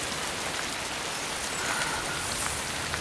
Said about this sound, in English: Her programming is generating rain onto her hologram.